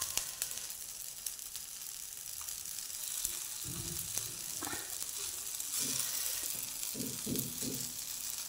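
Moong and jowar flour dhirde fry on a hot pan just after being flipped, giving a steady close sizzle with a few brief low thumps and scrapes partway through.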